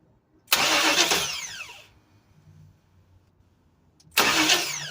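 Fuel-injected car engine with an injector fault cranking and catching twice, each start a loud burst of starter whirr and engine roar, separated by a short quiet gap with a faint idle rumble.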